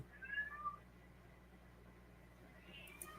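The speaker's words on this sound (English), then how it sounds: "That's Shaggy doing the meow gig" A cat gives two faint, short meows close together near the start, then a quiet room tone follows.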